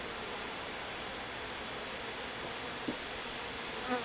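Steady, dense buzzing of many gentle honeybees at a hive, a continuous hum with no voices.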